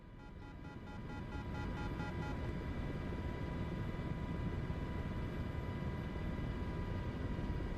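Steady, loud drone of an MH-60S helicopter's rotor and turbine in Microsoft Flight Simulator 2024, a firefighting flight over Idaho, building up over the first second and then holding as an even continuous roar with no talk.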